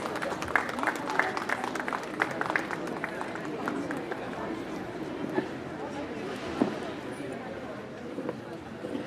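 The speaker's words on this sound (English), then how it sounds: "So let's welcome him with a big round of applause." Audience applauding a guest invited to the dais at a school annual day event, a steady wash of many hands clapping through the whole stretch, with voices mixed in beneath.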